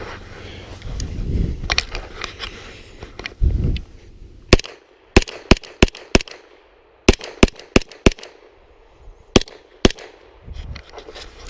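A PSA AKV 9mm carbine fired on a range from a Scorpion magazine cracks out sharp, separate shots in an uneven rhythm, loud and close, after a few muffled handling thumps.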